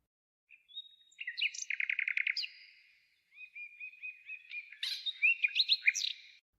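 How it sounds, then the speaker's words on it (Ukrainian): A songbird sings close by in two bursts of varied chirps, trills and whistled notes, with a brief pause between phrases. "А це звук пташок, їхній спів."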